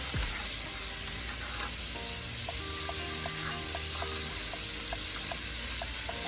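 Onion and sweet pepper sizzle steadily in a pan for a coconut curry prawn dish, a constant bright frying hiss with light clinks and stirring taps throughout, close up and no talking.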